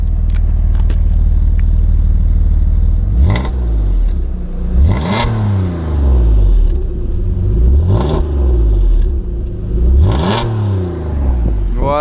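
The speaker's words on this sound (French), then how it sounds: "Voilà, je vous fais écouter le bruit." An Alfa Romeo 156 GTA with a 3.2 V6 idles with a raspy tone, then is revved hard four times. Each rev climbs and falls back to idle, loud and close, with no talk.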